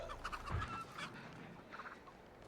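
A chicken clucks and squawks in The Texas Chain Saw Massacre video game, a few short, fairly clear fowl calls over a low, rumbling game ambience.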